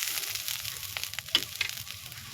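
Bitter gourd fries in a wok with a close, steady sizzle, broken by a few quick scrapes and taps of a spatula as it is stirred, with no talking.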